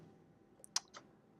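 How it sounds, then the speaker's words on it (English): A few faint, brief computer keyboard taps sound while a note is typed, sparse quiet clicks clustered together against a near-silent background. "A field will open up and you can type whatever you want."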